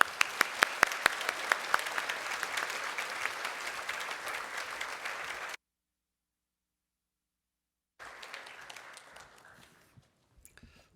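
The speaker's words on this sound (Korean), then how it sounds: "우리 강사님 나오실 때 박수로 모시도록 하겠습니다" Congregation applauding in a church during a Sunday worship service, a few sharp claps at first, then steady clapping that cuts to silence and resumes more softly before fading into a quiet hall.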